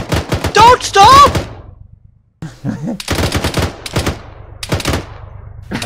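Repeated bursts of automatic machine gun fire in the ARMA 3 military shooter, loud and close, with rapid sustained volleys separated by short pauses, while a voice shouts over the opening shots.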